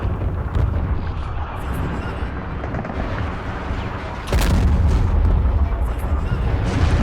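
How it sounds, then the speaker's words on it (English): Artillery fire in the World War II strategy game Men of War: Stalingrad, heard as a continuous dense rumble of distant booms that swells suddenly louder and heavier partway through, with no talking. "So the artillery's finally doing its job"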